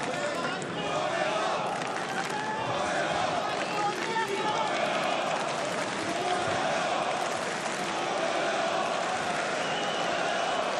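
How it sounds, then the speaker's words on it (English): Arena crowd at a Bellator 280 MMA event chanting a fighter's name, Yoel Romero, a dense, steady roar of many voices that stays loud and unbroken throughout, with commentary voices mixed in. "This crowd just singing the name of Yoel Romero"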